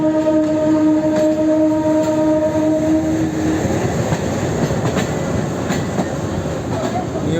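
A WDG3 diesel locomotive from the New Guwahati shed rumbles past steadily and loudly, its rail clatter continuous and close, with a sustained horn tone in the first few seconds.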